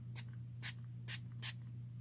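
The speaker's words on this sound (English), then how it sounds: "let's spray this." Four short hissing bursts from a bottle of salt texturizing hair spray, evenly spaced and close, over a faint low background hum.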